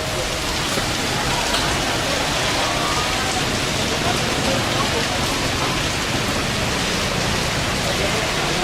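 Heavy rain pours onto a street in Saigon, Vietnam, a dense, steady hiss and patter that fills the whole stretch without letting up.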